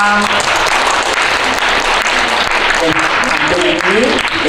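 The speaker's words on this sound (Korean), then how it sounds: "뜨거운 박수 부탁드리겠습니다" Loud, steady applause from an audience welcoming a broadcaster, a director and a writer onto a stage, dense clapping filling the whole stretch with faint voices beneath.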